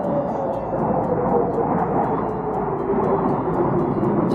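A steady broad roar of a jet aircraft passing overhead in the Lake District mountains, constant and fairly loud throughout, with faint voices mixed in.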